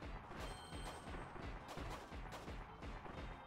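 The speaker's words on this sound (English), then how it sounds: "Alright, first item, firework launcher." A firework launcher item fires repeatedly in Kirby's Return to Dreamland Deluxe, a rapid run of booming, crackling blasts that overlap into a dense, steady barrage.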